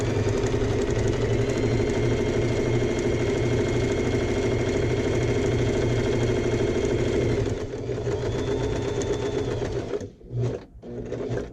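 Sewing machine stitching fabric for a bag, a loud, steady close mechanical whir with a fast rhythmic stitch beat that runs for several seconds, then drops in pitch and stutters to a stop near the end.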